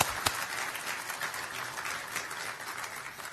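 A crowd at a township business awards event gives a short burst of applause, a steady wash of clapping from many hands at moderate distance for a few seconds.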